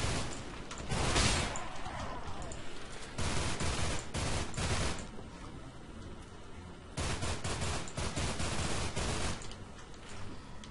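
Gunfire from The Haunted: Hells Reach video game comes as bursts of dense automatic fire and blasts, fairly loud and repeated across the clip with brief lulls between, and no talk over it.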